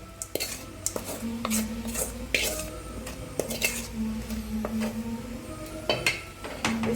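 Sautéed onion and green chilli get stirred into a soaked semolina (rava) batter in a bowl, with a spoon scraping and clinking against the sides in irregular knocks, plus a soft wet squish and faint sizzle in the background.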